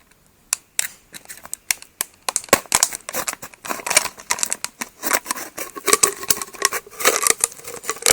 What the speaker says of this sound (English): Next, remove the bottom of the bottle and your funnel is ready.